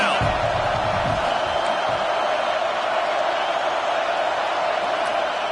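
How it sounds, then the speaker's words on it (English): Steady roar of a college football stadium crowd during a Georgia Tech vs Michigan game, swelling on a third-down defensive stand; continuous dense noise throughout with a commentator talking over it. "Decibels rising as the crowd gets behind this defense on 3rd down"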